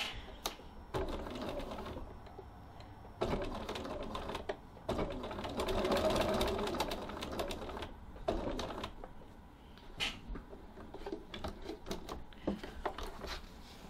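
A sewing machine topstitches fabric in several short runs, each a quick rattling clatter that stops and starts again. Small handling clicks fall between the bursts. The sound is close but fairly quiet.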